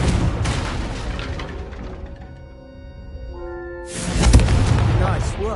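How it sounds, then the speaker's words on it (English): A Confringo fire spell explodes in Hogwarts Legacy, a sharp, loud blast that bursts in near the end after a quieter stretch of game ambience and sustained tones. "a Confringo cast travels a bit farther than that of a spell like Incendio"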